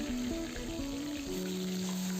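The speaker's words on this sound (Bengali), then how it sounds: "কড়াইতে তেল গরম হলে একে একে পাবদা মাছগুলোকে আমি এর মধ্যে দিয়ে দিলাম।" Pabda fish sizzling in hot oil in a wok, a steady soft frying hiss with a faint tonal hum underneath, quiet and continuous throughout.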